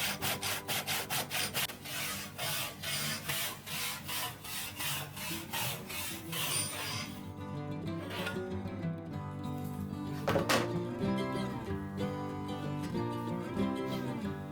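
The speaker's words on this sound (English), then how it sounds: "I have it filed for crosscut, but it still works pretty well with rip cutting." A crosscut-filed hand saw rip-cuts a board while making a simple wood box, with loud, regular rasping strokes close by. The rhythm breaks up partway through into slower, uneven scraping.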